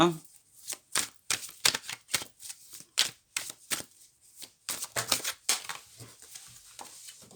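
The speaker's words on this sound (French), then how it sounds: "on va tirer 8 cartes" Tarot cards shuffled and drawn by hand for a reading, a quick run of crisp, papery riffs and slaps at close range with no talking.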